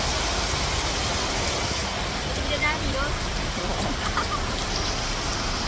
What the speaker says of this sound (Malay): Sekarang ni hujan.